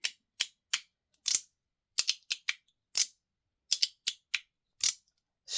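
Titanium magnetic fidget slider snapping back and forth in a run of crisp, close clicks, sometimes single and sometimes in quick pairs, irregularly spaced and quiet, with no voice.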